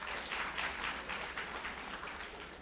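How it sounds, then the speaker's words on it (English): A meeting audience applauds a state ranking announced at a sisterhood general meeting, producing a continuous, fairly loud wash of many hands clapping, unbroken and free of speech throughout. "Give us a round of applause for that."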